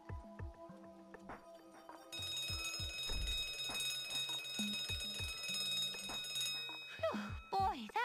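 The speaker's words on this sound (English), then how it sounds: "Ah, fire alarm." In the Monster High: New Ghoul in School video game, a fire alarm rings with a continuous, shrill electronic tone through the middle of the clip, among scattered game sounds and brief voices.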